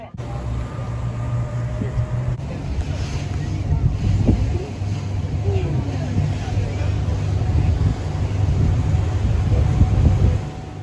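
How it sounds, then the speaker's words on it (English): A steady low tour boat motor drone on a lake in Grand Teton National Park, with wind buffeting the microphone throughout on a rainy day, fairly loud and close, with faint voices mixed in. "Beautiful rainy day for a boat ride"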